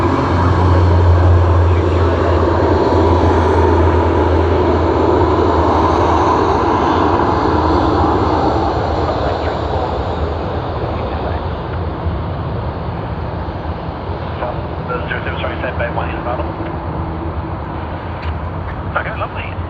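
A jet airliner taxis at Sydney Airport, its engines a loud, steady roar close by that slowly fades and thins over about twenty seconds.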